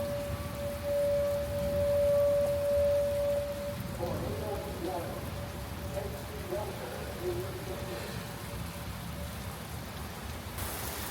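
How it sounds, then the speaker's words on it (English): Heavy rain pours steadily during a thunderstorm in Arnold, Missouri, a dense close hiss that fills the whole stretch, with a faint steady tone early on and voices murmuring underneath partway through. "So right now we just have the heavy rain, some lightning"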